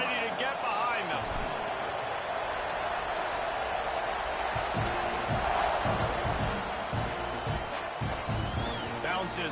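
A packed stadium crowd in CFB 26 roars continuously at kickoff, a dense, loud wall of cheering with thumps and shouts, under a commentator's voice.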